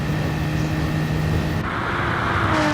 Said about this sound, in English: Hear those turbos absolutely whistling over the rise.